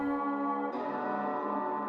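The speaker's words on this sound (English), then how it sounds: "I put halftime because actually halftime sounds like this with it." A halftime effect stretches an Arabic drill beat sample in FL Studio into a slowed, reverberant, washy melodic tone that plays steadily alone for about two seconds, shifting texture partway through.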